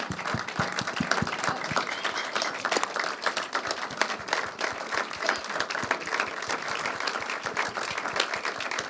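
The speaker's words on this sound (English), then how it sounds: "give a rousing round of applause to Mr. Michael Thompson" A film screening Q&A audience gives a sustained round of applause, dense clapping with distinct individual claps standing out, steady throughout.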